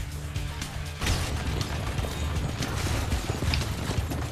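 In the video game Assassin's Creed 2, a horse gallops with rapid, loud clip-clop hoofbeats over rumbling cart and mechanical clatter, intensifying after the first second.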